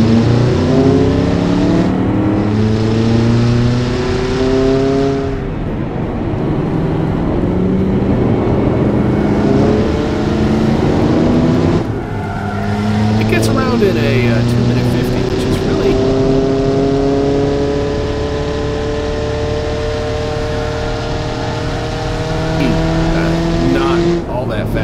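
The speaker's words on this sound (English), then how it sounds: "I'm gonna run it around the test track real quick and let's see how fast it'll go around." A car in the Automation video game laps a test track, its engine revving up and down through repeated gear changes, with someone talking over much of it.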